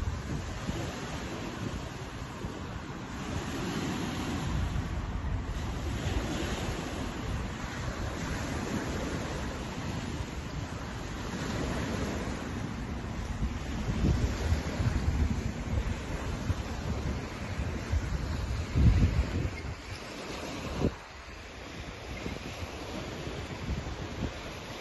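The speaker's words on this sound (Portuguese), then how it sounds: "Tá ventando bastante" Strong wind buffets the microphone outdoors in Japan near a kiosk and rows of red-leaved plants, a steady loud rumble with gusts swelling toward the end and briefly dropping near the close, with no talking.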